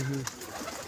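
A family-bred pigeon gives a short, low coo at a pigeon club loft, heard close and brief, with someone talking over it.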